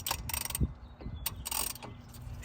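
A ratchet clicking as it tightens a socket onto a tie rod on a 2017–2022 Honda CR-V, with several quick bursts of metallic pawl clicks close by.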